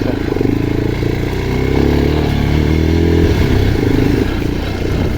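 A Geon X-Road Light 250 motorcycle rides off-road through ravines, its engine a loud, close, rough drone that climbs in pitch as it accelerates, with clatter and scraping over the terrain.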